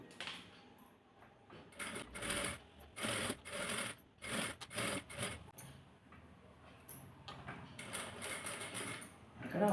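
A sewing machine stitches the collar of a baby frock in short, quiet runs of rapid mechanical whirring, broken by brief pauses and fabric rustle.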